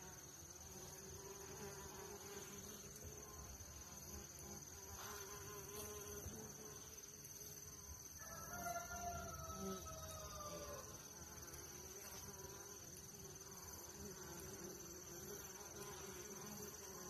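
Honeybees buzzing around a hive during a calm hive check and feeding, a steady, soft droning hum with individual bees passing close by.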